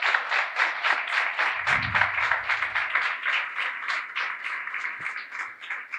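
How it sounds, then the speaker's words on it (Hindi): A church congregation claps in welcome, a loud, rhythmic and fairly unified clapping from many hands that continues throughout with a brief low thump in the middle. "क्राइस्ट होलीनेस चर्च की खूबसूरत कलीसिया तालियां बजाकर तमाम बहन भाइयों"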